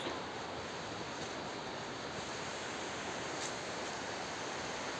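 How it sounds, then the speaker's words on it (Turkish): Düden waterfall in Turkey pours as a steady, dense rush of water, a broad constant roar with no breaks, heard from close by with no voices. "Hemen sağ taraftan şelalemizin sesten de anlaşılacağı üzere ana akım merkezine geliyoruz."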